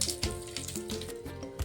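Whole garam masala, cumin and bay leaf sizzle steadily in hot oil in a frying pan, a close, continuous crackling hiss with small pops and faint stirring clinks.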